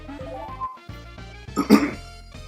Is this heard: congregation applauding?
no